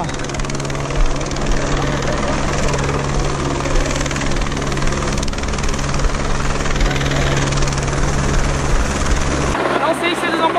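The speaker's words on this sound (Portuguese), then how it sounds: "Como é que o helicóptero vai pousar?" A helicopter's rotor and engine drone loudly and steadily, close by, hovering during a mountain rescue, with wind-like roar and faint voices underneath.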